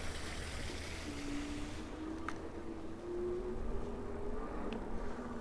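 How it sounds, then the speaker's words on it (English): Water running somewhere amid a fire-burned Pacific Palisades neighborhood, a steady, moderately loud rushing wash that continues throughout, with a faint thin whine drifting over it and no talking. "Oh, I thought I heard some water running."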